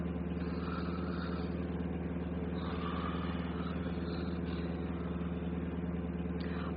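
Steady, close engine rumble of a bus motor running, a continuous low drone with an even vibrating texture and no pauses.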